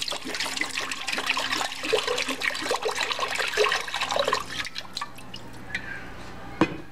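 Water poured into a crock pot for red beans and rice, a steady splashing trickle that runs for several seconds, then stops, leaving faint drips and a small knock.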